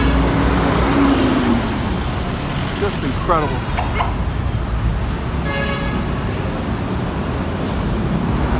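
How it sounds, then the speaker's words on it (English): Heavy evening traffic crawls along EDSA in Manila, a dense roar of engines with several horn toots scattered through the middle, while someone speaks briefly over it. "He couldn't clear up this traffic on Edsa."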